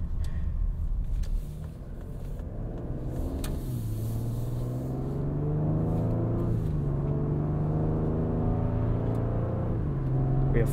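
A 2021 Ford Explorer ST pulls away in normal drive mode, its engine humming low and rising steadily through gear shifts in the 10-speed automatic, with smooth tire noise from inside the cabin and no talking.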